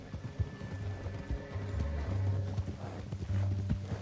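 Rhythmic horse hooves clip-clopping at a steady pace in the video game Red Dead Redemption 2, with a horse's whinny and faint background ambience, no talking.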